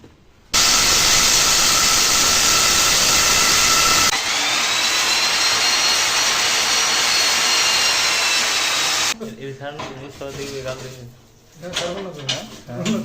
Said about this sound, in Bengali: তো এই মেশিন দিয়ে আমরা এইভাবে ফুটো করি।